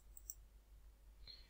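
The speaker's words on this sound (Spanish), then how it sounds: "triple clic" Computer mouse clicking during SketchUp modelling, a few tiny, very faint clicks close by in a near-silent room.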